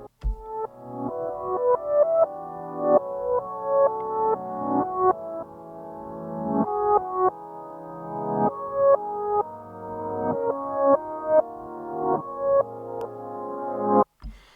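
A melodic music sample played backwards, its notes swelling up from silence and cutting off abruptly in a steady looping rhythm, loud and alone without any voices.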